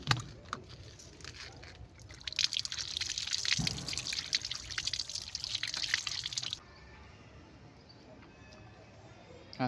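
Freshly harvested cherries being washed in water, with sloshing, splashing and dripping close by that grow busier in the middle, then drop to a quiet, faint trickle.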